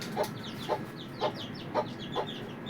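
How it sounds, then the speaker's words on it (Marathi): A hen clucks in short, evenly spaced bursts about every half second, with faint high peeping of her four chicks flickering in between. "हे आहे कोंबडी आपल्या 4 पिल्लांसोबत"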